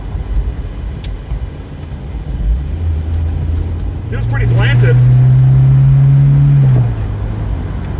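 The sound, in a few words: Volvo 245 car driving around a corner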